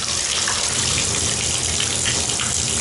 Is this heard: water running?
yes